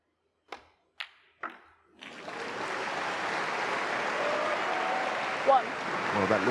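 A few sharp knocks from snooker balls ring out, then a full hall of spectators at a World Grand Prix final breaks into sustained applause that builds and holds. A commentator's voice carries over the clapping.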